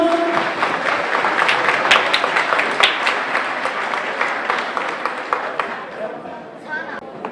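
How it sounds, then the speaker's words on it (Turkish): An association evening audience in Germany applauds the mayor of Ardahan, a sustained, lively clatter of many hands that thins toward the end, with a voice briefly audible at the start and some crowd murmur underneath. "Çok değerli alkışlarınız Ardahan Belediye Başkanı Sayın Abim Hüseyin Taşlar için"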